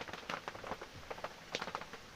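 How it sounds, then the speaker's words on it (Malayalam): Light, spray-like rain falls in cold, misty weather in Ooty. It makes a faint, soft patter of scattered drops, heard alone. "നല്ല മഴ"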